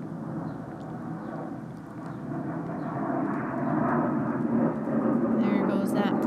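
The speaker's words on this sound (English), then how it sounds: "There goes that plane." A low, broad engine roar of an airplane swells gradually as it passes overhead, growing louder toward the end.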